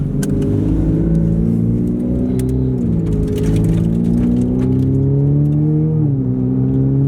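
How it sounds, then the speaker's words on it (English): A rare Ferrari engine runs steadily at a loud, close idle, its low rumble holding even with slight dips in pitch and no voices over it. "The car starts up and it seems to be idling fine."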